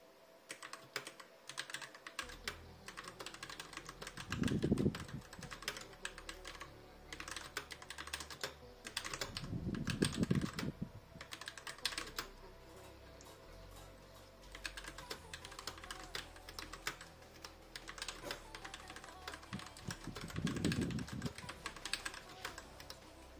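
Rapid clacking keystrokes from a GG Ironclad mechanical keyboard, typed in continuous bursts at close range against a quiet room.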